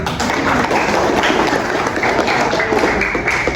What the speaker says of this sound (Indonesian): Beri tepuk tangan untuk Bu Tati.